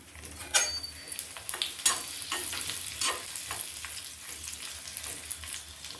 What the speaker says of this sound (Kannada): ಸ್ವಲ್ಪ ಕರಿಬೇವಿನ ಸೊಪ್ಪು ಹಾಕ್ತಾಯಿದ್ದೀನಿ ಒಂದು ಹೆಸಳು ಚೆನ್ನಾಗಿ ಕೆಂಪಗಾಗಬೇಕು